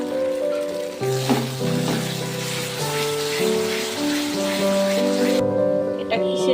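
Masala and tomatoes sizzle in a pan for katla fish curry, a continuous frying crackle with occasional stirring scrapes beneath tonal background music.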